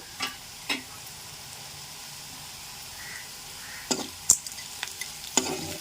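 A utensil stirs chili powder, salt and turmeric in a cooking pan, giving a few scattered scrapes and taps over a faint, steady sizzle. The sound is close and quiet, with no speech.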